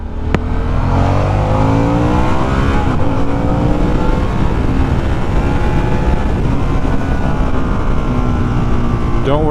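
Harley-Davidson Sportster S motorcycle cruising on a highway, its steady engine drone and rising, sweeping harmonics mixed with continuous wind and road rush close to the rider, with no let-up throughout.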